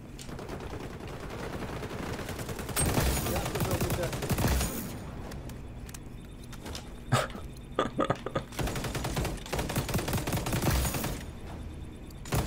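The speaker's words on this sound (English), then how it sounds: "Did my gun sound like it was stuttering?" Rapid gunfire bursts from a player's weapon in the shooter game XDefiant, loud in stuttering clusters with short gaps, alongside other shots and game effects.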